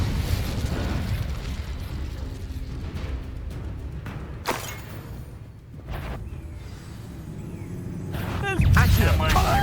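Spell blasts from Incendio and Confringo in Hogwarts Legacy: a few sudden whooshing bursts and a booming pop near the end, set over a steady rumbling game background with spoken spell incantations.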